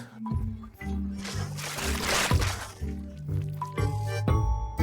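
Pancake batter pours into a frying pan with a close, wet squishing and dripping, thick liquid glugging in uneven bursts.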